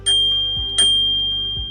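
Two bright rings from a mechanical bicycle bell on a Mokwheel Basalt electric bike, each a sharp metallic ding with a long sustained tone, spaced under a second apart and heard close and alone.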